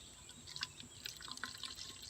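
Homemade summer drink poured into a plastic cup, faint trickling and dripping liquid with small irregular splashes, quiet and close.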